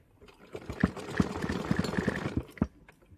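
Short, uneven bursts of a sewing machine stitching three layers of blouse fabric, a lining and a double katori piece, with clicks and mechanical taps between runs, fairly quiet and close.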